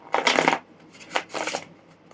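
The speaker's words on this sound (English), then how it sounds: "Just while I'm shuffling" Tarot cards being shuffled by hand in two quick bursts, a dry riffling and sliding of the deck, close and fairly quiet with a short pause between.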